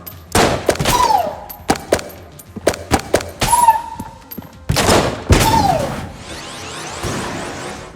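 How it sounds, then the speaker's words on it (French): A shotgun fires repeatedly in the video game Enter the Gungeon, loud close blasts in irregular bursts with ringing tonal effects and pauses between volleys. "Le fusil à pompe."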